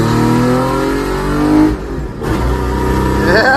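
A 90s minitruck revving hard and accelerating, a loud close engine roar rising in pitch, dipping briefly as it shifts, then climbing again.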